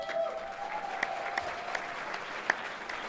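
Audience applause after a talk about supporting student-led gay straight alliances in Wisconsin: a steady, moderate wash of clapping with a few sharper individual claps, sustained throughout under a faint tonal hum.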